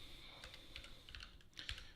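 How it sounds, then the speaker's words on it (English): Rapid typing on a newly swapped computer keyboard, with clustered, uneven keystroke clicks and clacks over a steady background hum, close up and moderately quiet. "You'll have to excuse my typing, by the way. I changed keyboards"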